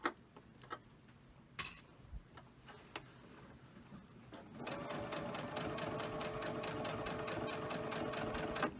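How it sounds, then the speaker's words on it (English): A sewing machine stitches along the edge of a T-shirt being taken in to a smaller size. A few faint taps and clicks come first, then a steady, fast, rhythmic run of needle strokes continues, close and unbroken, to the end. "I'm sewing on the edge of that"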